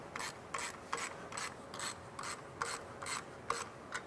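A bolt on a Bendix service brake chamber clamp being tightened with a hand ratchet, giving a steady run of about ten rasping, clicking strokes in an even rhythm, close and moderately loud with no talk.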